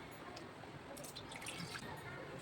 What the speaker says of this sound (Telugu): ప్యాన్ పెట్టి ఇందులో వాటర్ పోసుకుందాం.